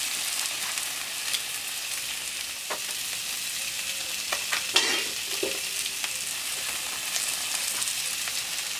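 Meagre fish fillet frying on a plancha with Landes peppers, a steady bright sizzle with scattered small pops and crackles and a few light utensil touches, close and continuous without talk.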